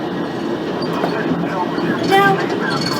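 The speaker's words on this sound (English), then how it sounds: "this sounds good for a 1992 stock train" A 1992 stock train on the Central Line, simulated in OpenBVE, rumbles steadily with a faint rising whine partway through, heard close and continuous beneath a talking voice.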